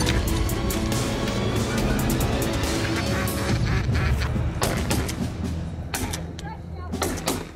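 A dense crowd of thousands of waterfowl at a Marysville duck and goose hunting spot honks and quacks continuously, a loud, chaotic wall of overlapping calls with some louder bursts near the end.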